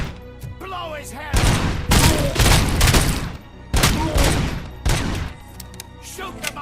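Heavy gunfire in the game RoboCop: Rogue City, several loud, close bursts of rapid shots and booming impacts spread across the clip, with short lulls between them and a voice talking in the quieter moments.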